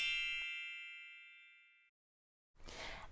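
A bright bell ding rings once and decays slowly over about two seconds, followed after a short silence by a burst of noisy rustling.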